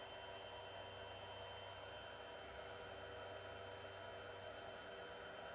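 Two 40mm cooling fans run inside a Supermicro SYS-E300-8D server, a faint, steady whirring hum with a broad airy hiss and a low tonal drone, unbroken and without voices.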